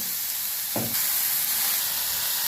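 Ivy gourd with tamarind and salt frying in a pan gives a steady, loud, close sizzle and hiss, broken by one short stirring scrape near the start.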